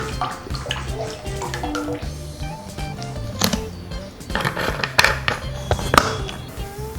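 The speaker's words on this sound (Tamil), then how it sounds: "இப்போது நம்ம எண்ணெய் ஊற்றிக்கலாம்" Oil poured into a pan for frying boondi for laddu gives a splashing, gurgling liquid stream mixed with light clinks and clatter of kitchen utensils, fairly close and lasting several seconds.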